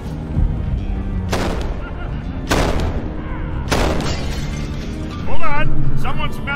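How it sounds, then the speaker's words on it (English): Explosions in the Helheim Hassle video game: three heavy booms roll out at regular intervals, with voices talking around them. "Explosion sound!"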